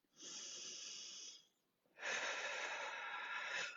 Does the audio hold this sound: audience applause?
no